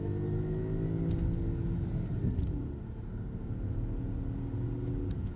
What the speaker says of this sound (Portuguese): eu vou acelerar um pouquinho para vocês verem o desempenho